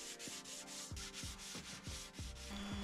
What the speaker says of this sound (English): everyone's favourite task, lots and lots of sanding.